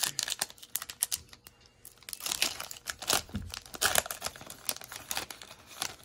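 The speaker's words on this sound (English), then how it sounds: "Boy's going to open up some cards here. These are the last pack." Pack of 2021 Donruss basketball trading cards torn open: close, loud crinkling and ripping of the foil wrapper in dense bursts, pausing briefly before more vigorous tearing and rustling.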